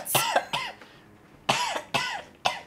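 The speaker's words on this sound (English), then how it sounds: "Yes, cough." Harsh, close coughing comes in rough bursts, about six in all: a quick cluster, a pause, then three more spaced hacks, with no talking.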